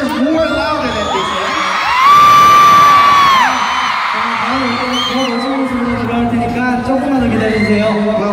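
A large concert crowd cheers and screams, with one high sustained shriek rising above the roar at the middle before the noise settles into mixed yelling and chatter.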